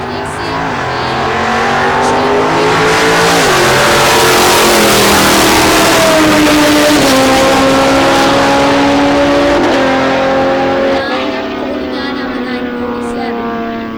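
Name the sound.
drag racing cars launching down the strip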